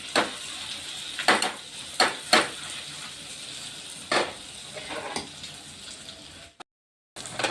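Two spoons of red chili powder sizzling in hot oil for a garlic-tomato tadka chutney, a steady close hiss broken by several sharp clinks of stirring against the pan, then a short drop to silence near the end.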